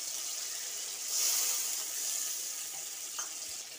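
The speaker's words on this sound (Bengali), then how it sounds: "এবার আমি সরষে বাটাটা দিয়ে দেবো।" Mustard paste thinned with a little water goes into a hot frying pan for a raw rohu fish curry, producing a brief, loud surge of hissing that settles into a steady sizzle.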